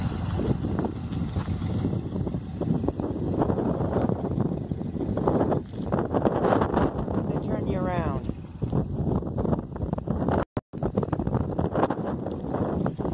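Strong, steady wind buffets the microphone outdoors at a day-use area near mountains and a hiking trail in Arizona, a continuous loud rumble running alongside a man's close speech.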